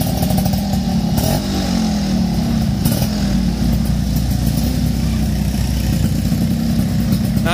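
A Suzuki Tornado motorcycle fitted with a stainless racing exhaust made in Purbalingga runs loud and close, its engine revving briefly before settling into a steady, throaty idle.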